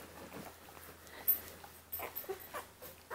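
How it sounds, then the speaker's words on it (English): A litter of newborn puppies nurses, giving soft whimpers, sniffs and snuffling breaths, faint and close, in short bursts over a low steady hum. "As they're chomping away here, getting some good milk time."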